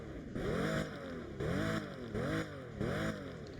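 In the Driving Empire racing game, a Pagani limited car's engine revs aggressively in four repeated upward sweeps, each rise cutting off sharply before the next, loud and unaccompanied.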